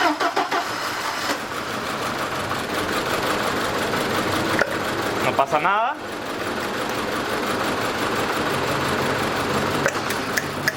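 A VW Passat 1.8T engine with a misfire runs roughly with an uneven, chattering idle, and a coil is pulled while it runs; a brief starter whine cuts in midway, with voices talking throughout.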